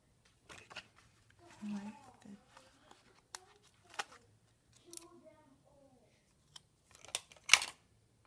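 Scissors snip paper for a mini Happy Planner, a few sparse, close cuts and rustles separated by pauses, with soft talking between them.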